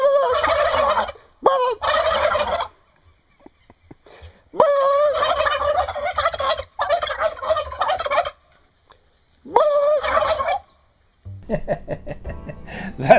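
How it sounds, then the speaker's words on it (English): Turkeys gobble in repeated loud bursts separated by short pauses, with flock chatter and a final stretch of mixed bird calls. "YouTuber posted a really funny video about the strange behavior of turkeys."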